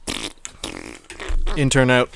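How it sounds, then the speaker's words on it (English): A fart sound effect used as a comedic segue, a short buzzy blast near the end following brief spoken words, loud and close. "Fart segue noise for sound effects."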